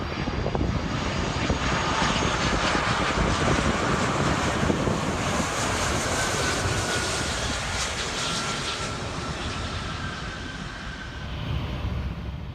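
Scandinavia 953, a heavy jet, lands on runway 12 at Miami International Airport with a loud, steady broadband engine roar that holds for the whole stretch, tinged with wind noise.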